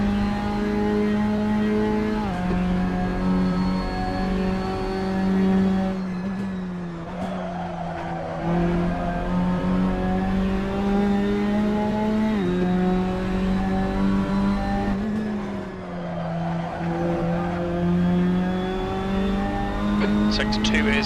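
Race car engine in a BTCC touring car racing game at Donington, droning loudly and continuously with pitch climbing through the gears, dipping at shifts, with tyre squeal in places.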